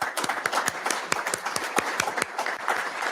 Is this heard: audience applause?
yes